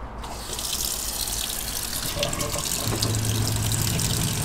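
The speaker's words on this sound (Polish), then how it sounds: "Ale się odkręci w kranie wodę." Hot water from a Truma boiler runs steadily from a kitchen tap in a camper van under construction, a continuous close hiss of flow filling the sink with no talk.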